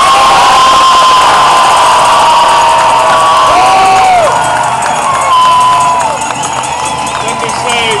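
Crowd of demonstrators in Madison, Wisconsin cheering and shouting continuously, loud and close, with whistles and voices blending into a sustained roar.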